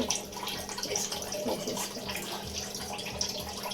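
Prawn shells are washed by hand in water for a curry, giving quiet, close sloshing and splashing with a running-water texture and small drips, with no talk.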